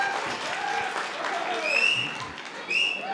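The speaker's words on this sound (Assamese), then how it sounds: "এটি জোৰদাৰ হাত চাপৰি দিব লাগে দলটোৰ কাৰণে।" An audience at a Bihu dance competition in Guwahati applauds a student Bihu team with sustained, moderately loud clapping, punctuated by a few sharp whistles near the middle and end.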